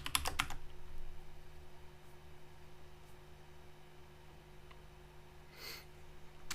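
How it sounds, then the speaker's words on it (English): Computer keyboard being typed on, a quick burst of loud clustered keystrokes at the start, then sparse faint taps over quiet room noise. "Here I went on to type a lot"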